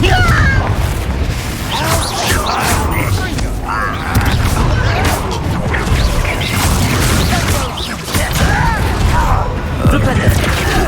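Repeated blasting-spell explosions in Hogwarts Legacy gameplay, a string of loud booms and crashing impacts over busy game sound, with voices talking between the blasts.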